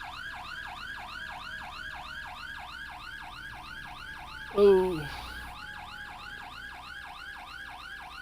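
A fire engine siren in a Roblox emergency roleplay game wails in fast, repeating rising sweeps, steady and fairly loud for the whole stretch, briefly interrupted by a short voice exclamation midway.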